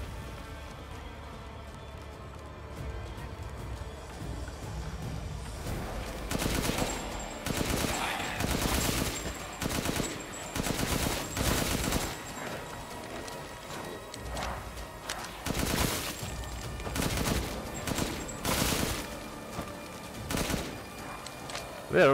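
Covering gunfire in the video game Resident Evil Village: repeated bursts of rapid shots over about twenty seconds, loud and close, with short gaps between volleys.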